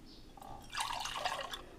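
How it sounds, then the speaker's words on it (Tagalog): Warm milk poured into a flour, sugar, salt and baking powder mixture for siopao dough, heard as a short, soft liquid pour and gurgle lasting about a second. "Maglagay tayo ng 1 cup warm milk"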